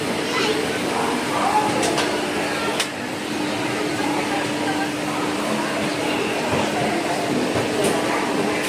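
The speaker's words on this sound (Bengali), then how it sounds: "আর এই যে ট্রেন ছেড়ে দিল।" Interior of the Howrah-Bengaluru Duronto Express as it departs Howrah station, a steady broadband rumble and hum with faint clanks, continuous and fairly close throughout.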